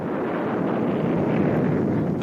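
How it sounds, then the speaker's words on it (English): A Boeing-run simulated nuclear explosion test at Misers Bluff, Arizona, heard as a loud, continuous, dense rumbling roar with a wind-like blast that stays steady throughout and has no voices over it. "The American Boeing Corporation simulates a nuclear explosion."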